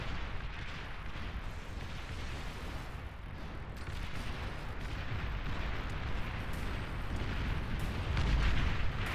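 Rocket bots fire and explode in a real-time strategy game battle, producing a dense, continuous roar of booming blasts and rumbling artillery that swells louder toward the end, with no talk over it.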